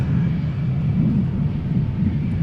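An Aegean Airbus A321neo airliner arriving at Amsterdam Schiphol Airport gives a steady, deep roaring rumble that holds at a constant loudness throughout, with no voices.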